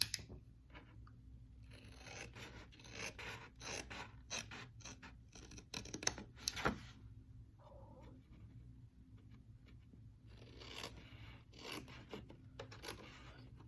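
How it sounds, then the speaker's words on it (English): Quiet rasping snips and rubbing of scissors cutting through paper, a series of short irregular cuts close by, with no talking. "you're going to take your scissors and you're going to cut out these 2 squares"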